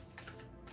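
Tarot cards are given a quick shuffle, a short run of soft papery riffles close by and fairly quiet, lasting under a second.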